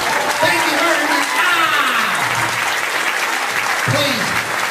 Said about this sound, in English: Don't clap too loudly.